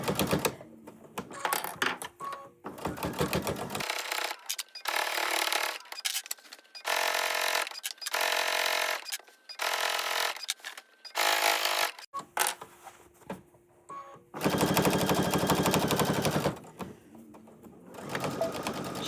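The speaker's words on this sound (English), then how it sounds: "make sure my needle goes in right where I want it, and then I just follow that stitch line" A sewing machine stitches along the hem of a pair of jeans in quick rattling bursts separated by short pauses, close and clear with no talking.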